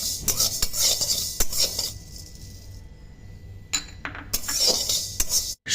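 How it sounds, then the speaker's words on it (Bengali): Mustard, cumin, fenugreek and coriander seeds dry-roast in a pan, stirred with a utensil that scrapes and rattles against the metal in uneven bursts with a brief lull, close and clear. "মশলাগুলি রোস্ট করে নিতে হবে"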